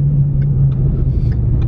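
A Ford Mustang fitted with a repaired Borla exhaust drives past close by, giving off a brief, steady, deep rumble with a low hum.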